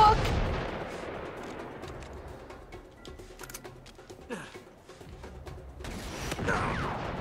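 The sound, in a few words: sniper rifle gunfire in video game Uncharted 3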